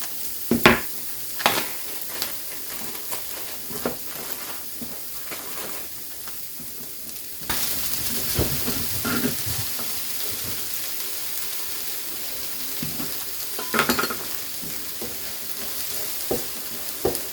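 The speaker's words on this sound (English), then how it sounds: "peppers in, mushrooms in, onions in. Just let these cook down a little bit here." Peppers, mushrooms and onions fry in a pan for spicy beef wraps, with a strong, close sizzle and repeated clattering stirs; the sizzle grows louder midway as more vegetables go in, with no talking.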